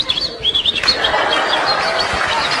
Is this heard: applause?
no